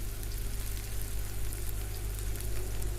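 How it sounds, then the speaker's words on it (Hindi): Gola kebabs shallow frying in hot ghee give a steady, dense sizzle and crackle, close and continuous with no break. "इसमें हमने ये कबाब जो हैं वो डाल देने हैं और इनको फ्राई कर लेना है"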